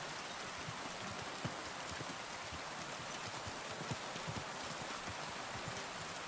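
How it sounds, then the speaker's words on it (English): Heavy rain falls steadily, a loud dense wash of hiss with scattered distinct drop patters, continuous and uniform with no talking. "Is it just me or is the rain really loud?"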